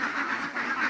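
Large ducks quack nearby in a quick burst of two or three nasal calls, clear and close, with no talking.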